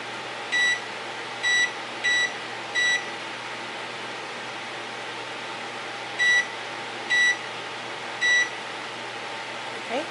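Oven control panel beeping as the baking temperature is adjusted for sourdough: a cluster of four short electronic beeps, a pause, then three more, over a steady fan hum.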